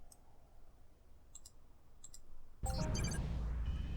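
Key clicks on a computer keyboard during a sci-fi MMORPG session: a few faint, sparse ticks in quiet, then a louder burst of clicky game noise near the end.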